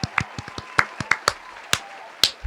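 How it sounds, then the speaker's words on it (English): One person's hands clap a short round of applause, about a dozen sharp, close, uneven claps over a couple of seconds. "Let me give you a round of applause"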